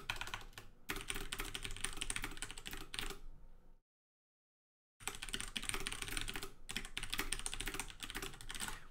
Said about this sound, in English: Your typing is heard over your voice.